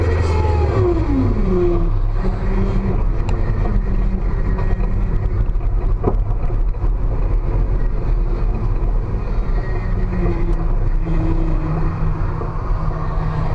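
A drift car's engine drones loud and close inside the cabin, its pitch rising and dropping as the throttle is applied and lifted in repeated swells.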